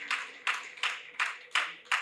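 An auditorium audience at a Hindi heroic poetry recital claps six times in steady unison, each crisp burst evenly spaced and fairly loud.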